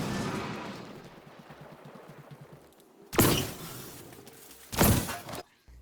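Two loud, sharp gunshot bursts ring out about a second and a half apart, fired at electrical panels in Black Ops 6 zombies, after a stretch of quieter rumbling game ambience.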